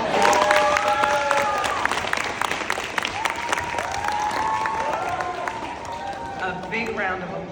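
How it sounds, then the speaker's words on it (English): An audience at a children's Mini United Nations event applauds diplomats and embassy partners, giving sustained, dense clapping with cheers and voices mixed in throughout. "please stand and give them a hand"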